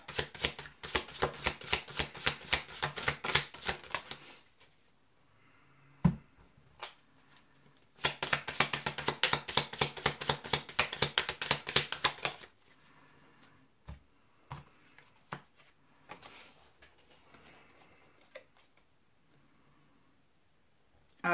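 Oracle cards are shuffled by hand in two long bursts of rapid, crisp riffling clicks, close and fairly quiet, separated by near silence with a few isolated taps and card handling sounds afterward.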